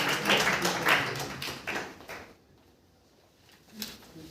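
An audience at a student speaking event welcomes a speaker with a dense burst of clapping that fades after about two seconds into near quiet, with a faint thump at the end.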